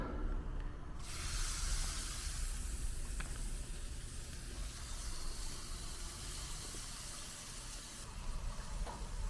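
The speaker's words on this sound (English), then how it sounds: "Now I'm just gonna sear the bacon." Bacon wrapped around a wild hog backstrap searing on a grill, a continuous close sizzling hiss that holds steady throughout with no talking.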